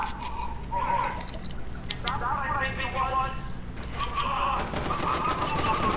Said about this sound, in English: Shots are coming